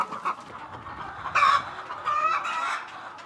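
Hens cluck nearby in short bursts, with a couple of louder, drawn-out calls rising above a steady farmyard background.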